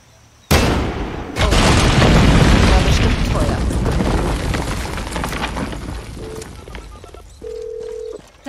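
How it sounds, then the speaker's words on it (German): A huge explosion in the video game Far Cry 6 blows up the Castillo statue: a sudden loud blast, then a second heavier boom that rolls into a long, gradually fading rumble with debris, with no speech. "Ich muss sie irgendwie in die Luft sprengen."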